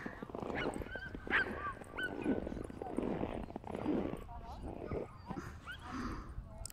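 A puppy plays noisily up close in snow, with yips and soft whimpers mixed with scuffling and crunching, while a person talks over it.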